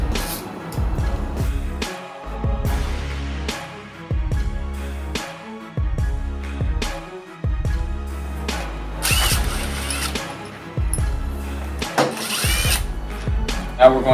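A power tool runs in repeated short bursts, loosening the 3/16 head primary cover bolts on a Harley-Davidson Dyna during a chain conversion; roughly eight close, loud whirring spurts with brief pauses between them.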